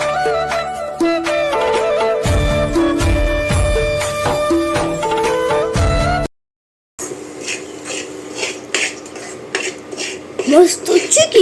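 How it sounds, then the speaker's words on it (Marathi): Peanut and jaggery mixture stirred in ghee in a metal pan for peanut chikki, close spatula scraping and clanking against the pan, coming after a stretch of ringing musical tones. "साजूक तुपामध्ये तर सारखा हलवत आपल्याला परतवून घ्यायचा आहे"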